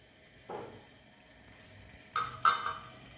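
A metal spoon knocks against a cooking pot while oil goes into water for Hilsa pulao, giving one soft tap followed by two sharper, ringing clinks close by, with no talking.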